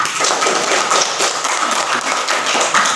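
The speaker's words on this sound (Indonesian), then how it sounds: "Tepuk tangan dulu semua." Classroom of pupils clapping their hands together, a dense, steady patter of many overlapping claps filling the room for the whole stretch, fairly loud and close.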